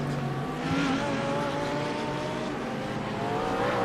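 Lamborghini GT3 race car at Sandown Raceway, a loud sustained engine roar with the pitch climbing steadily as it accelerates, heard from nearby with no voices.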